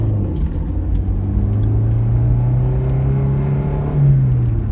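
A Honda S2000 GT300 build's engine drones steadily with a low rumble, its pitch rising and easing slightly as the throttle is briefly opened near the end, on a street.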